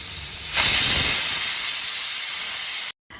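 A pressure cooker cooking beef lets out a loud, steady steam whistle, a bright hissing jet that starts abruptly, holds for a couple of seconds, then cuts off sharply.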